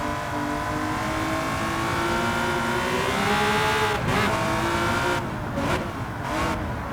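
A race car in the Gran Turismo 7 video game accelerates steadily through a turn, its engine note climbing and droning loudly and continuously, with brief tire scrubs and shifts near the end.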